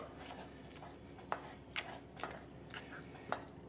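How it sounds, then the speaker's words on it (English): A fork mashes avocado in a bowl, giving soft squishy presses with a few sharper clicks of the tines against the bowl at an irregular pace. "I'm just going to go ahead and start mashing up the avocado inside the bowl here like so"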